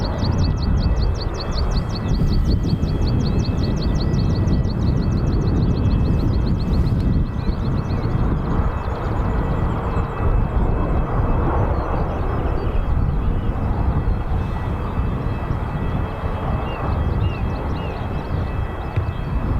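A British Airways A319 airliner at Dublin Airport gives off a loud, steady jet roar that holds for about twenty seconds. A faint rapid chirping sits high above it early on.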